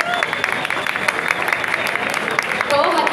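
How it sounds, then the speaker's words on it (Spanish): Applause from a crowd at the opening of a Porcelanosa store in the Parque Cerro Verde shopping centre, Venezuela, a continuous mass of clapping close by with a faint murmur of voices mixed in. "Así que por favor, un aplauso."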